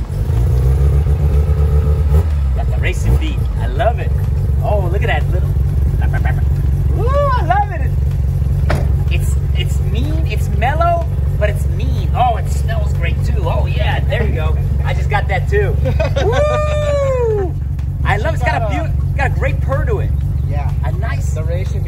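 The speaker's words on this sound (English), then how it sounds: "The racing beat exhaust." Mazda RX-7 FC rotary engine burbling steadily through a Racing Beat exhaust, a deep continuous drone with a few rev swells, heard under near-constant excited talking.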